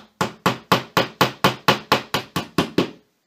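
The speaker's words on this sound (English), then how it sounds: "We're going to take the hammer and that nail and just tap it through to verify." A hammer tapping a nail through drywall beside a wooden stud, twelve sharp, evenly spaced knocks close up, alone, each one crisp and quickly decaying.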